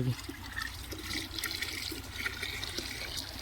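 Water is poured from above over a mixture of Basalin weedkiller and fertilizer for a cumin field, making a faint, continuous splashing trickle without talk.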